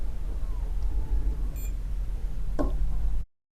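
A multimeter gives one brief beep while testing a capacitor, a short tone over a steady background hum. A faint click follows, and then the sound cuts out.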